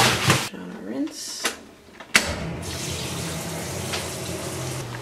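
Cloth diapers are rinsed under a running tap. A few seconds of clatter and handling lead into a steady, close rush of water that continues to the end.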